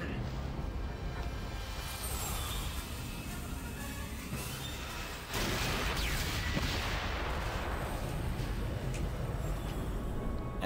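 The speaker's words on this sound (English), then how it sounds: "look how fast the Helix Cannon destroys the reactor" The Helix Cannon in the video game Descent II pounds the reactor with rapid, dense booming blasts and explosions, continuous and loud, intensifying sharply midway as the reactor is destroyed.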